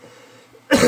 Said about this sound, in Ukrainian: З тим кашлем.